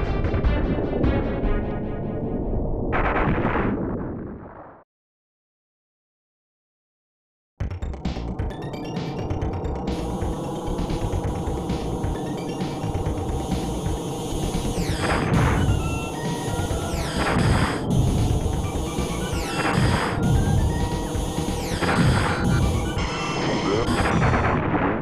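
Explosions and rapid weapon fire from a boss fight in the Star Fox game on the Super Nintendo, a short burst, a pause of silence, then a long, dense barrage of repeated booms and blasts.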